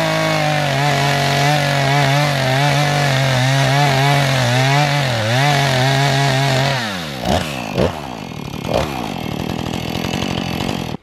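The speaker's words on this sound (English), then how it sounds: "I just go over the log with the chainsaw." A chainsaw mills a log at a sub-Arctic homestead, its engine droning steadily at high revs, then dipping and surging in uneven bursts as the cut progresses, close and loud throughout.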